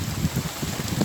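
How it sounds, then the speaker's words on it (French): Heavy rain pours down near a building site, a dense, steady rushing wash with low rumbling texture and no voices. "il pleut vraiment violemment"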